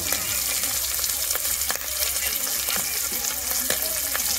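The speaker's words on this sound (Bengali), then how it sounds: "তো এখন ভাজা হচ্ছে পমফ্রেট" Fresh pomfret fish frying in oil crackles and sizzles steadily and close up, with a constant hiss and scattered sharp pops throughout.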